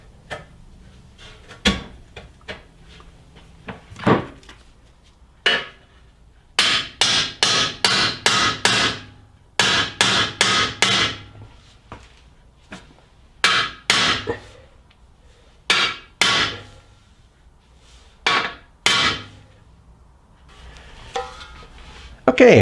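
A Johnny Joint is hammered into the upper rear control arm of a 1999-2004 Jeep Grand Cherokee: sharp metallic strikes, some single and some in rapid bursts of five or six, separated by quiet pauses.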